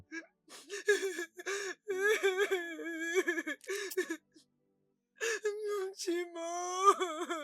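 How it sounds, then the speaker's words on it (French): A woman in a Nigerian drama cries and whimpers, with gasping sobs, wavering wails and broken moans in uneven bursts, close and loud, pausing briefly midway before resuming. "Arrête de pleurer, s'il te plaît."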